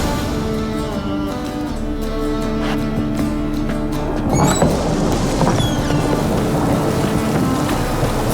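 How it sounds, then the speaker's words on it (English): A thunderstorm rolls through in the Witcher 3 video game, with a constant wash of rain and wind that swells into a rumbling roll of thunder midway through, broad and enveloping, with no voices. "Storm, damn it."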